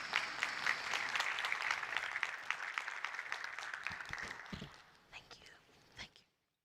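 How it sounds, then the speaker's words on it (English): An auditorium audience at a conference claps steadily for the speakers, dense applause that thins into a few scattered final claps before falling silent. "please join me in giving a round of applause for our eminent speakers"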